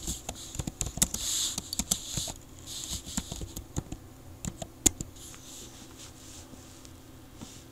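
Quick, irregular clicks from typing on a computer keyboard while entering a chart title in an Excel spreadsheet. The keystrokes come in scattered bursts at low volume over a faint background hum, with no voices.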